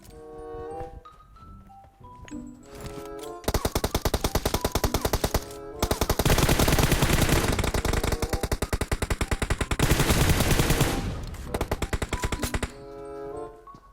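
Automatic gunfire in the mobile shooter PUBG Mobile comes in long rapid bursts, loud and close, with brief pauses between volleys and a few quieter shots at the start.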